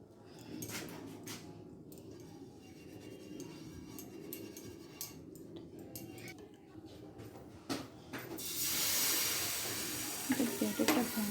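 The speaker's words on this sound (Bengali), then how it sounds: "দেখো চাটুটা গরম হয়ে গেছে, আমি একটু ব্রাশ করে নিচ্ছি" Oil brushed across a hot iron griddle (chatu) with the flame turned down, a soft broadband sizzle with scattered scrapes and clinks that swells into a louder, steady hiss near the end.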